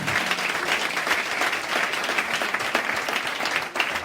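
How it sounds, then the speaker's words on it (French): Audience applause after a testimony at a church gathering, a steady dense wash of clapping that holds evenly throughout without pause. "Applaudissez pour ce témoignage"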